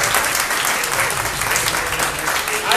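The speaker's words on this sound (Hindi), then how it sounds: "एक बार सर के लिए ताली बजाइएगी।" An audience applauds a teacher at a sports award ceremony, with dense, steady clapping from many hands filling the space, loud and continuous for the whole stretch, with faint voices mixed in.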